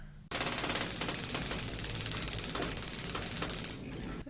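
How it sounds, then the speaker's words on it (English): A taser discharged on a person in a courtroom, heard as a loud, continuous rapid crackling buzz that starts abruptly and runs for about four seconds before easing off, with no talk over it. "He's getting tased."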